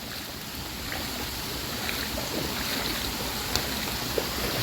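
Rain-swollen creek water rushing steadily after a rainy day, a constant broadband hiss and gurgle heard close by, with a couple of small splashes toward the end.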